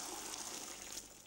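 Water from boiled penne pasta being poured off into a sink, a brief steady gushing rush at moderate distance with no talk.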